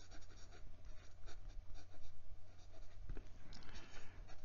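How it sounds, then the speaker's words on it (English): A fountain pen's 14 karat gold music nib, wet and smooth, writes with Pelikan Edelstein Sapphire ink, giving a steady close scratchy scritching of strokes with brief pauses between lines. "The 14 karat gold music nib is just too nice not to show in action"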